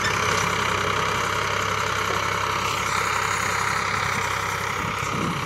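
Farmtrac 60 tractor engine running steadily at a low, even idle, with a constant mechanical drone that holds at the same loudness throughout.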